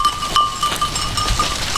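Goats bleat on a Romanian farm where an owner is selling animals, close-up bleats mixing with steady outdoor noise and a faint ringing tone throughout.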